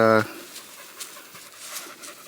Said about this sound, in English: here's some of the guard dogs